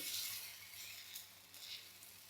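Pesarattu batter sizzles softly on a hot pan, a quiet, steady hiss with small crackling bursts and no talking.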